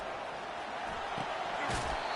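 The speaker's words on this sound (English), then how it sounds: "This crowd bringing the energy and noise early." Steady roar of a stadium crowd in the NCAA 25 college football game, a broad constant wash of cheering with a few brief thumps, a commentator's voice talking over it.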